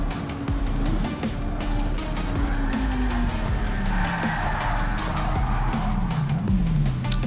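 In Gran Turismo 7, a race car loses control through a tight chicane, its engine droning loudly as tires squeal and skid in long sliding wails, the whole passage dense and continuous.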